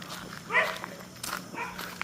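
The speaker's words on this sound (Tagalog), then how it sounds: "Pag yung naglalakad ka, tatahulan ka ng aso eh, no?" A dog barks on a dark street in Mamburao, Occidental Mindoro, giving a short close bark amid footsteps and quiet background noise, with people walking nearby.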